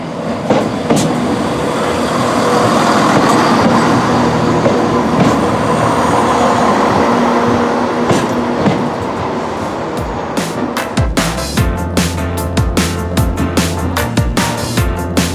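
East Midlands Railway passenger service on the Stoke-on-Trent loop toward Alsager, a steady loud rumble of the train running, then rhythmic wheel clatter and squealing rail tones as it moves on, heard alone without talk.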